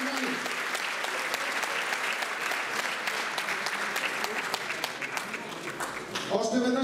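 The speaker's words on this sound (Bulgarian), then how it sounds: "Аплодисменти за класираните на четвърто и на пето място Стефан Тинков и Никола Попов" An audience at a Christmas chess tournament prize ceremony claps for the prize winners, a sustained dense round of applause at even strength, with voices rising near the end.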